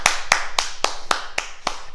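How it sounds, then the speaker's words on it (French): Children at a ninja class applaud themselves after the salute, seven crisp, evenly spaced claps in a quick steady rhythm, close and moderately loud. "Et on s'applaudit."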